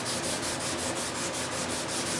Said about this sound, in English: you gotta sand the top of the primer off the tape